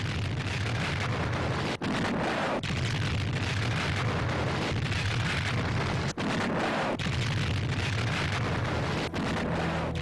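Rapid-firing naval guns shell an unarmed merchant ship in the First Sino-Japanese War, a dense run of heavy booming blasts and rumble that pauses now and then for a moment.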